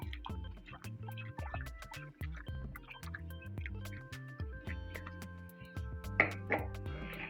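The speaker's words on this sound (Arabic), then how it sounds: "احط الميه بقى كده." Water poured onto chickpeas in a cup for a hummus al-Sham drink, giving a steady trickle with light drips and splashes, rising briefly louder near the end.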